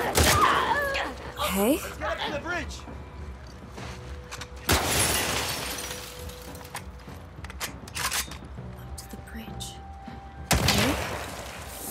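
Gunfire from the video game The Last of Us Part 2 cracks out in a few sharp, loud bursts spread across the moment, mixed with game ambience and a player talking over the action.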